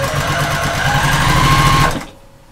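A sewing machine stitches a lap quilt in a fast, steady mechanical whirr close by, running continuously for about two seconds before stopping abruptly and leaving near silence.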